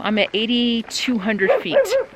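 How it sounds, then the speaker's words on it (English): A dog barks and yips repeatedly, close by and loud, with a person speaking briefly between the barks. "I just want to see what she's barking at"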